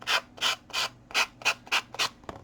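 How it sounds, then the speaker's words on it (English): A small sanding block rubs along the edge of a decoupaged napkin tag in seven quick, even rasping strokes, close and fairly soft, with short pauses between passes. "just use like a little sanding block and just run it along the edge"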